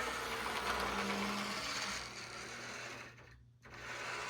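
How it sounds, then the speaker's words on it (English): Pemco ALCO C-430 model locomotive with higher speed gearing running over a track switch, a continuous whirring electric motor hum close by that briefly drops out and then resumes. "Now let's see what happens with the switch."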